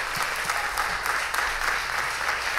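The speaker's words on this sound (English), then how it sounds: "Let's give God a hand clap of praise" A worship congregation claps hands in praise, producing dense, continuous applause from many people that is fairly loud and close, with no voices on top.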